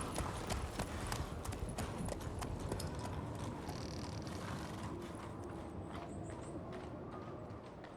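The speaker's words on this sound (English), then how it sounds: "We ride to Fornhalla. At a gallop." Rhythmic clip-clop of horses galloping in The Witcher 3, steady hoofbeats under a dense game soundscape, fairly faint overall with no speech.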